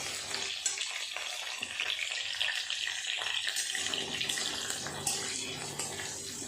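Potato pieces fry in hot oil for a mutton keema dish, a dense, steady sizzle and crackle close by, with occasional scraping of stirring throughout.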